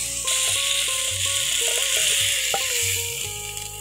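Chopped taro leaves fry in a blackened wok over a clay stove, giving a steady, close sizzle with intermittent scraping and stirring sounds and no talking.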